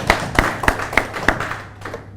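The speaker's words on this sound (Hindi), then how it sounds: "उसके लिए तालियां जोरदार होनी चाहिए" Audience clapping in a studio, with about five distinct claps spaced roughly evenly, fairly close and moderately loud, trailing off at the end.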